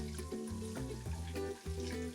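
Butter foaming and browning in a pan as it is pushed around, giving a steady close sizzle and bubbling with no talk.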